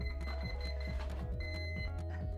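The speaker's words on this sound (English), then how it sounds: "Six beeps is a good sign." A short run of six electronic beeps from an electric ducted fan's speed controller, tonal and repeated, over a low steady hum.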